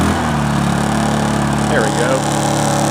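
Honda generator engine running steadily after starting, a constant mid-pitched drone that stays loud throughout, with a person speaking briefly over it.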